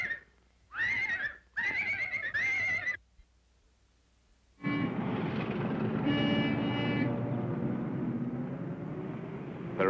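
A horse whinnies in a few loud, quavering bursts, then after a short pause a long, rumbling neigh with heavy breathy noise fills the rest.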